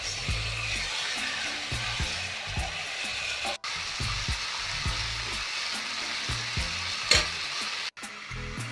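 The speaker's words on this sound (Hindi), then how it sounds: "मसाले हमने पीस लिए हैं और चिकन भी बढ़िया से फ्राई हो गया, इनको निकाल लेते हैं।" Chicken fries in hot oil with a dense, even sizzle and frequent small spatters, heard close and uninterrupted by speech, with two brief dropouts.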